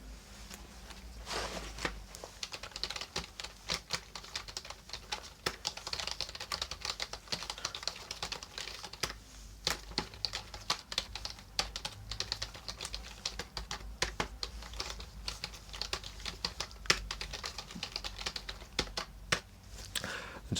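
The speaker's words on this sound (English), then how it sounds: "just let me type up a few notes" Close, quiet typing on a computer keyboard during a dentist roleplay, a steady stream of soft irregular key clicks with brief pauses, continuing alone without talk.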